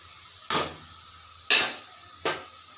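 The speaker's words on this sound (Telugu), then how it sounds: "ఇప్పుడు ఇందులో మనం ముందుగా ఫ్రై చేసుకున్న రొయ్యల ముక్కలు వేసుకుందాం." Pre-fried prawn pieces hit a pan of frying onions in three quick drops. Each one brings a sharp burst of sizzle that fades quickly, close and fairly loud, with no voices.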